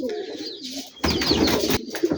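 Rajshahi giribaz pigeons, a thick-tumbler colour-matched pair, coo in a soft low burble while someone talks over them and a louder bird flutter or scuffle breaks in midway.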